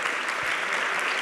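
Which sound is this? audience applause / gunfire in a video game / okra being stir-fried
audience applause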